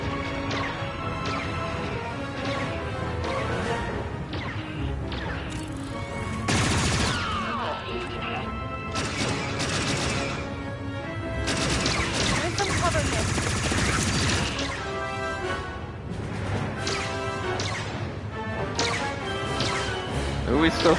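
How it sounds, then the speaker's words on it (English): Blaster gunfire rattles in Star Wars Outlaws, dense repeated shots and crashing impacts over a continuous loud game soundtrack, with a voice talking at times. "Who are we still shooting at?"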